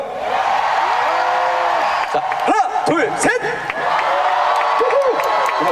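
A large crowd roars and cheers continuously before an encore performance at a trot concert in Uiryeong, with whoops and shouting voices rising over the sustained noise.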